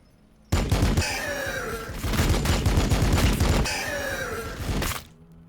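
A Warhammer 40,000 battle between Blood Angels and Tyranids erupts in loud gunfire volleys, dense overlapping bursts that roll on for several seconds before cutting off.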